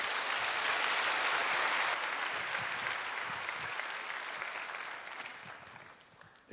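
At a church young adults' worship service, the congregation gives the pastor a long, loud round of applause that fades gradually over several seconds.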